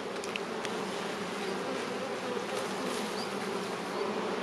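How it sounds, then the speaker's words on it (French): A steady insect buzz hums around a beehive, dense and continuous, with an Asian hornet's wings droning close by against the bees' drone. "Là on a un frelon, ouais, il est éloigné, il n'arrive pas à s'approcher de la planche."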